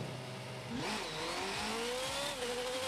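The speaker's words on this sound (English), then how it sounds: "And also the engine sound." Formula 1 car engine in an F1 video game, revving and climbing in pitch with a steady high whine, loud and continuous throughout with no talking.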